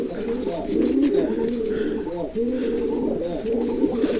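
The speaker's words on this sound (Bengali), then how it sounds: "অনেক সুন্দর কবুতর" Toy Lahori pigeons coo repeatedly close by, overlapping throaty rolling calls in a continuous chorus, with a voice briefly present underneath.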